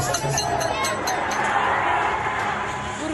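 Thousands of people in a street clash with police outside a gurudwara in Nanded, a dense, loud roar of crowd noise and shouting voices that stays steady and fills the whole scene.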